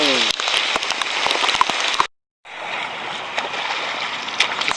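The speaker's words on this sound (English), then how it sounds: "We're getting a little bit wet now, a little bit of rain coming." Rain pattering steadily on water and surroundings during a river swim trek in a scenic reserve, a dense close hiss with scattered drop ticks, briefly cut to silence before resuming.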